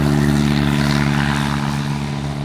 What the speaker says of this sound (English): recording planes, both on the ground